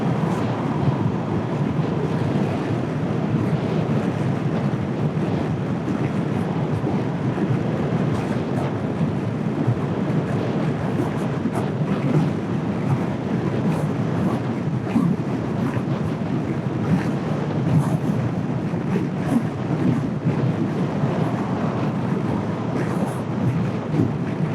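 Strong wind buffeting a rider on a scooter during a long-distance scooter rally, a loud, continuous roaring rush against the microphone mixed with engine and road noise, steady throughout with no clear talk.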